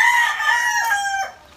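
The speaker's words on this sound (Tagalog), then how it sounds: "Yun naman mga manok na yun." A rooster crows once, a loud drawn-out call with a falling tail, close by and alone, then it stops.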